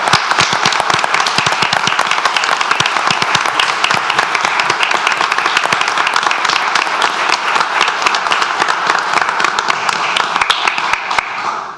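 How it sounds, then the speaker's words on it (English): A crowd at a town board meeting claps for standing volunteer firefighters: loud, dense, sustained applause with sharp individual claps throughout, fading out at the end. "I'll offer them a round of applause."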